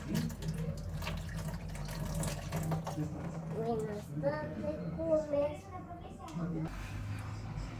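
Water from a pot of cooked spaghetti pours into a kitchen sink in a steady rushing splash, heard close, with a person talking over it in places.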